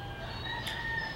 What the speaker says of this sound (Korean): 새벽 닭 울음소리가 중간중간 녹음에 들어갈 수 있을 것 같네요